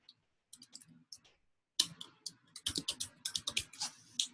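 A computer keyboard typed on nearby as an email address is entered, with a few sparse clicks followed by a faster run of crisp keystrokes, quiet and alone.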